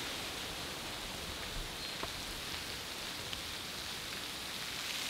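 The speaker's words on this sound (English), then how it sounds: "now it's raining." Steady, hissing rainfall on a beach on Boracay Island, Philippines, fills the background evenly, soft and constant with no talking.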